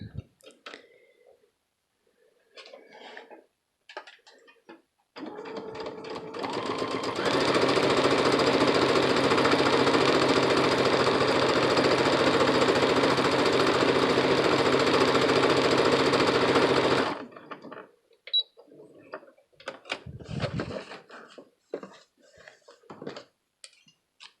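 Sewing machine stitching pintucks with a double needle and tightened tension runs steadily at speed for about ten seconds, a loud, even mechanical whir and rattle, with scattered handling clicks and quiet movement before and after.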